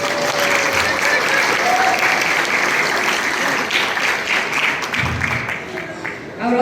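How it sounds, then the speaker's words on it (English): An audience claps at a graduation celebration: steady, dense applause that fills the whole stretch, fading slightly near the end, with some voices mixed into the crowd. "I want to give a big round of applause to him"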